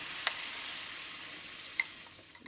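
Butter, soy sauce and honey sizzle steadily in a hot pan for a honey butter chicken thigh glaze. The hiss is close and even, with a couple of small clicks and no voices.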